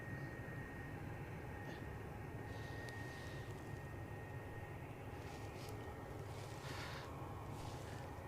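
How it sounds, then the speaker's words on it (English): A Ryanair airliner lines up on the runway at Edinburgh Airport, its jet engines a faint, steady distant whine and rumble heard outdoors from a spotting spot, with a few soft scattered noises nearby. "Next aircraft lining up is also a Ryanair."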